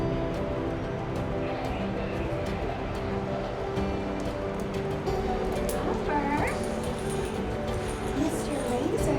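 A puppy whimpers and gives short yips in a busy, noisy indoor setting, the small cries brief and intermittent under a steady wash of background sound and some nearby talking.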